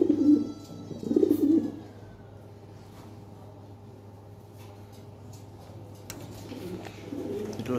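A pair of large white Lahore pigeons gives two close bursts of throaty cooing, one at the start and a softer one near the end, over a low steady hum with a quiet gap between.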